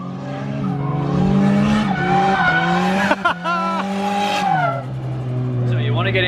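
A turbocharged Nissan 180SX drifting, its engine revving and changing pitch while the tires squeal, loud and close, with voices talking over the car throughout.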